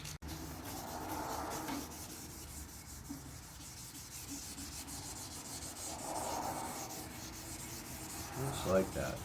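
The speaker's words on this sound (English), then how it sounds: "So we're just going to take that down with 1000 grit." Motorcycle paint on a custom Harley FXSTC is wet sanded by hand with 1000 grit sandpaper, giving soft, close rhythmic rubbing strokes that swell and fade in slow waves, quiet and without speech.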